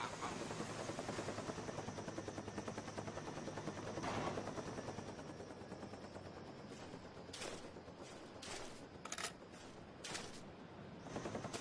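Hind attack helicopter in the Call of Duty Black Ops video game, a continuous rotor thrum with chopping pulses across the whole stretch, overlaid by scattered bursts of gunfire and explosions toward the end.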